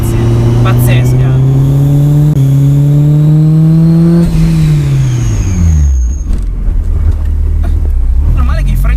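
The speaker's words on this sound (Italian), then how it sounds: "tu continui ad affondare sul gas e sti 9000 giri sembra che non finiscano mai" Supercharged Honda S2000 VTEC engine revving hard toward 9000 rpm, a loud rising howl climbing through the gears with a couple of quick shift dips, then falling away as the revs drop, heard from inside the car with faint talk.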